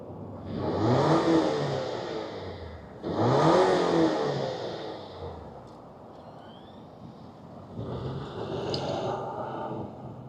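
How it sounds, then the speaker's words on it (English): A 2026 Lexus TX 350 F Sport, a roughly 5,000-pound all-wheel-drive SUV, pulls away: two rising engine swells followed by a quieter lull and a third, softer surge, heard from outside. "let's fire it up and see it roll"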